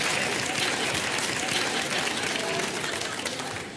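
A studio audience on a daytime talk show breaks into dense, continuous applause, an even wash of many hands clapping that holds steady and eases off slightly at the end.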